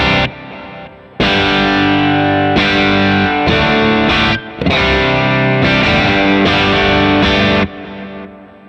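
An electric guitar is played through an HX Stomp with a transistor tape delay for a worship tone. Sustained distorted chords ring out in long strummed swells, each with shimmering echo trails, loud and steady with brief dips between phrases.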